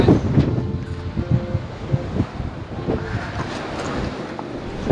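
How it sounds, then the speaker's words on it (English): Strong gusts buffet the microphone at open coastal ruins on Aruba, a continuous low rumbling roar with surging bursts that persists through the whole stretch with no talking. "So yeah, it's so windy."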